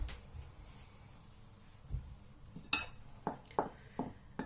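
A spoon stirring egg yolk into curd cheese in a bowl for steamed cheese dumplings, with a few soft scrapes and then a series of sharp, regular clinks against the bowl, close and quiet.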